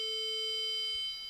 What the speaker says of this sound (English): it sounds an alarm. And if my back is too curved, it sounds an alarm.